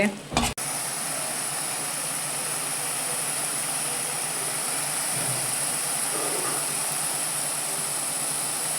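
Lime slices and chili frying in a hot pan, a steady broadband sizzle that runs evenly and close throughout after a brief clatter at the start.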